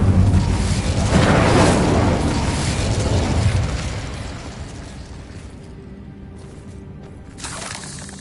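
A fire spell cast in the Hogwarts Legacy video game gives a loud burst and roaring whoosh, a rumble that fades over a few seconds, then a short flare near the end.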